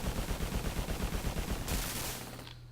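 Rapid automatic gunfire from the Urban Strike video game rattles in a fast repeating burst, then cuts off into a brief fading tail.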